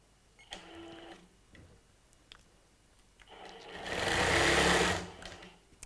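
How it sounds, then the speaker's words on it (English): A long-arm quilting machine stitching a T-shirt quilt, with a short rapid mechanical stitching run, a quieter pause with a few clicks, then a louder sustained whirring burst of stitching close by; no talking. "And then you can start quilting again."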